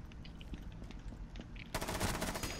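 Rapid automatic gunfire in the shooter game Rainbow Six Siege, a dense crackling burst that grows louder and more intense in the second half, with no talking over it.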